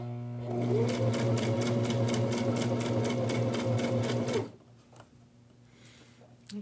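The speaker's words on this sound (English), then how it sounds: "This one I'm sewing on the inside edge." A sewing machine stitches a seam along an inside edge, running in a fast steady rattle for about four seconds close by, then stopping abruptly, leaving a quiet hum and faint handling noises.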